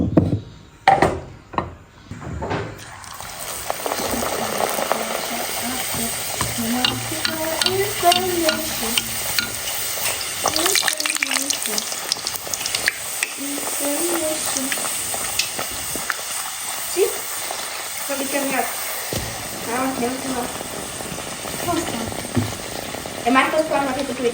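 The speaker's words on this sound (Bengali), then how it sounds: "আর পরিগুলো ভাইজে নিতেছি" Puris fry in hot oil with a busy bubbling sizzle, broken by frequent stirring and clattering strokes, close by, and people talk faintly in the background.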